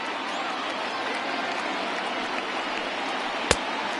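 Dense, steady roar of a stadium crowd of over 37,000 at a Texas Rangers at Seattle Mariners baseball game, a continuous wash of cheering with one sharp crack near the end.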